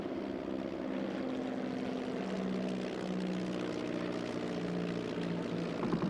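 A World War I Sopwith Camel fighter plane's engine drones steadily, a continuous propeller hum with a low rumble that holds even throughout, with no voices.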